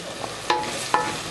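Garlic and browned onions sizzle in a pot while being stirred, a steady frying hiss punctuated by two louder scrapes of the spoon against the pot.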